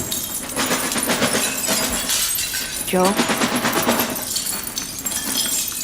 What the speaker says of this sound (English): Just a trail of broken glass in case anybody tries to break in.